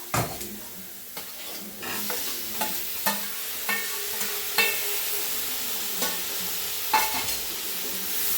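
Shallots, onions and freshly added tomato pieces are stirred in a frying pan for chicken curry, with a soft continuous sizzle and regular spatula scrapes about once a second, close by and without speech.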